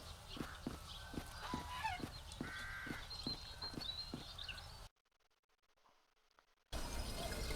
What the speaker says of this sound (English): start to deal with those crows already